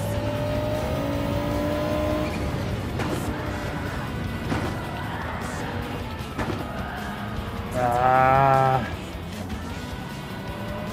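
A Group B rally car in Gran Turismo 7 runs at full throttle, its engine droning loudly and steadily, with a rising high-pitched rev surge near the end.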